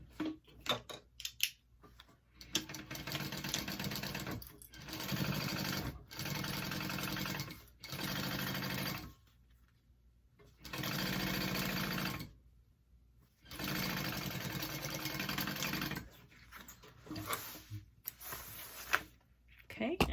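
A sewing machine stitches an Esperanza handbag in several loud, steady bursts of rapid whirring separated by short pauses, with occasional handling clicks between runs.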